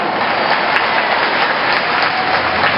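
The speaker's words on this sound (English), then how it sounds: "Let's give Allison a big round of applause." A zoo dolphin show audience applauds in a dense, steady wash of clapping that blends into continuous loud noise, like a large crowd in an outdoor or echoing arena, sustained without pauses.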